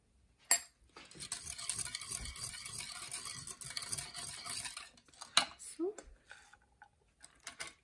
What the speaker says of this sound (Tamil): ஸோ பீட் இந்த விஸ்க் வச்சு பீட் பண்ணிவிட்டு